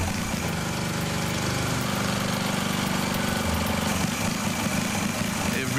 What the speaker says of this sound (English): With a week to go, the Canadians are fine-tuning their engine.